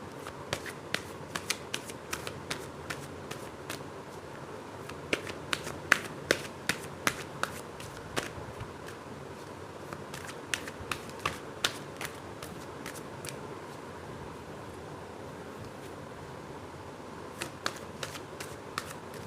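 Tarot cards are shuffled and pulled by hand, giving repeated crisp riffling snaps and light slaps in irregular bursts, close and clear over a quiet background with no talk.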